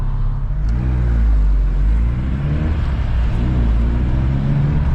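A VW MK2 with a 16V engine running CBR900RR carburetors gives a loud, close, deep rumble as it accelerates, its pitch rising and falling in waves over a steady roar.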